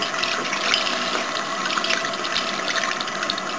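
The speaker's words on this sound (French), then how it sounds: "Je rince" Running water rinses a makeup brush, a steady broadband splash and gush from a tap, close and continuous without pause, no talk heard.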